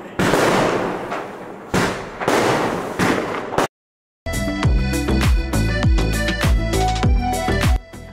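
Diwali firecrackers go off loudly nearby: long crackling bursts in the first half, then a brief silence and a dense string of sharp rapid pops and bangs, with no voices.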